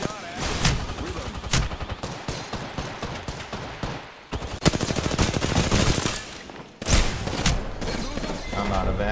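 Video game gunfire in a ranked match, long bursts of rapid automatic shots and heavy impacts, loud and close, broken by short gaps, with someone talking over parts of it.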